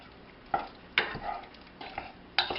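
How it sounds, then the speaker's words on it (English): A spoon stirs barbecue sauce with lemon juice in a pot, giving a few distinct scraping clinks and soft swishes against a quiet background, with no talk. "Give that a good stir,"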